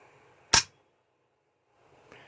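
The trigger of an empty Riley Defense AKM rifle is pulled, making one sharp, loud mechanical snap close by, then near silence and a faint rustle of handling.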